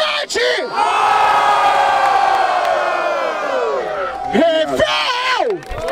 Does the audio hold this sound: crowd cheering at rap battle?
yes